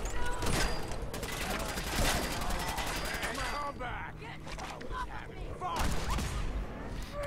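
Rapid bursts of video game gunfire crackle repeatedly, loud and dense, with a short lull before another volley near the end.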